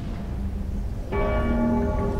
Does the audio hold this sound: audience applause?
no